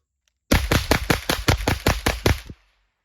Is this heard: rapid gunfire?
yes